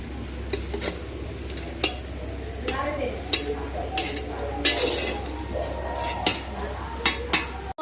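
Fried rice with fried capsicum, carrots, cashews and raisins stirred in a pan, with repeated metallic clinks and scrapes of a spatula over a low hum, close and moderately loud.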